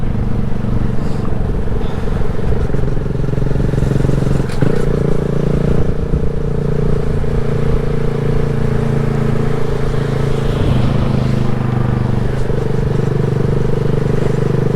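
A 2020 Honda Grom motorcycle engine drones steadily throughout an early-morning ride, its low, loud hum holding at an even pitch with brief shifts in tone near the middle and toward the end.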